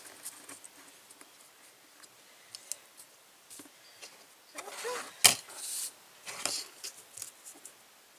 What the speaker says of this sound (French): On va faire la découpe